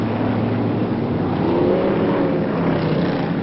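A BriSCA Formula 1 stock car pulls onto the infield at a 1985 Northampton meeting, its engine a steady, fairly loud drone that rises slightly in pitch midway, with no voices over it.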